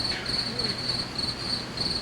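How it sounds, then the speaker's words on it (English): Crickets chirp in steady repeated pulses at night, a bright high trill going on continuously at moderate loudness with faint background noise. "Christ, the crickets!"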